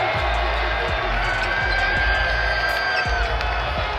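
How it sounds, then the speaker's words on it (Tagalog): A crowd roars inside an arena as fans arrive at a Lakers game, Luka Doncic's debut, a dense and steady wall of cheering and shouting with faint ball bounces thumping underneath. "Papasok pa lang sa arena grabe na ang sigawan ng crowd."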